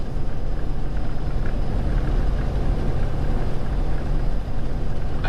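A car cruises along an Arizona road, producing a continuous broadband rumble of engine and road noise at a steady level with no breaks.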